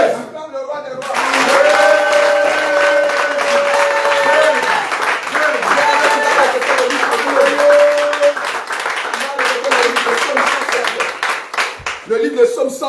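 A congregation at a morning prayer service clapping and cheering for about thirteen seconds, steady dense applause with sung or chanted voices riding on top, loud and close.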